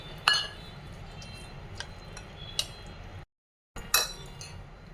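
A spoon clinks against a bowl while semolina, milk and yogurt are mixed together for a cake batter; a few sharp, close clinks stand over a soft, steady background, broken by a brief moment of silence.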